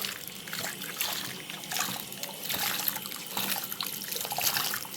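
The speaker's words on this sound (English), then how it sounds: "Under the water, squeeze soap and water." A removed part of a Bissell Powerforce Compact Turbo vacuum is rinsed under a running tap, water splashing and trickling steadily with uneven surges as it is squeezed, close and moderately loud.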